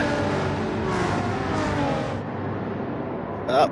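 A pack of touring race cars roars off the start in a sim racing championship, engines droning loud and steady before easing off, with commentary running over the top.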